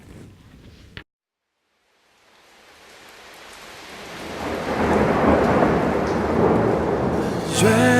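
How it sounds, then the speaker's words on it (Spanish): A thunderstorm with heavy rain: after a brief sound cut and a moment of silence, a deep rolling rumble of thunder swells into a loud steady downpour that keeps building. "ven, llueve sobre mí."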